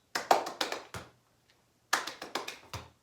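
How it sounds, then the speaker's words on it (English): Hand claps during a kindergarten PE exercise come in two quick bursts of about five sharp claps each, separated by a short pause, crisp and fairly close in a quiet room. "See how many claps you can get."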